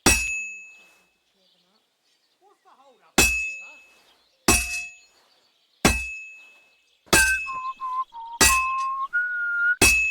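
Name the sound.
hammer striking sword on anvil, Kingdom Come Deliverance 2 video game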